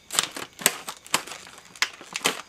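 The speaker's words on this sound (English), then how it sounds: "I'm just gonna cut this open." Scissors or a blade snip and slice through the packaging of a new door knob, several sharp, crisp cuts and crinkles spaced irregularly, close and moderately loud in a quiet room.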